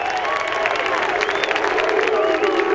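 A golf gallery at the Masters Tournament cheers and applauds a birdie putt, with dense clapping and raised voices rolling on at a strong, steady level throughout.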